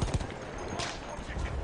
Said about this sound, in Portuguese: os caras estão dando tiro doidado